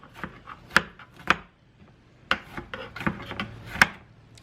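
Dull kitchen knife sawing and scraping through food on a cutting board, a series of close rasping strokes and knocks in uneven bursts with short pauses between.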